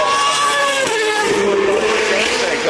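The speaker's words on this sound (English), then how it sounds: "This is the Sauber C32" A Sauber C32 Formula One car drives past at the Goodwood Festival of Speed, its loud high engine note sweeping and shifting pitch throughout, close and dominating.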